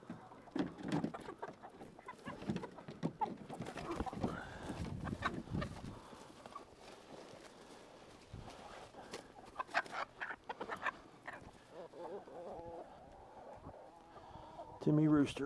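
Hens clucking and squawking during a chicken roundup with a net, mixed with rustling and handling noises, under people talking throughout, with a louder burst of flapping near the end.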